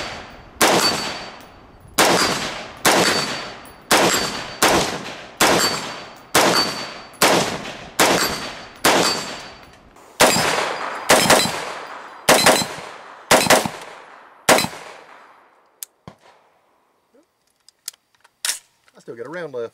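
AR-15 rifle fired at a small steel plate about 50 yards away: a rapid series of loud sharp shots at a steady rhythm, each with a quick decay, then a few isolated clicks and handling noises, with a voice briefly at the end.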